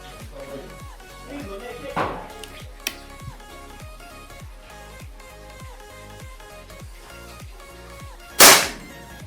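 A single sharp shot from a Bocap Predator 500cc PCP air rifle snaps out near the end, loud and sudden, after a soft knock earlier, with quiet background music underneath.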